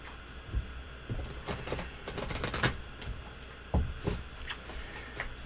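Tarot cards being shuffled by hand, with soft papery riffles and sharp card snaps falling in irregular bursts, close up and quiet, with no talking over them.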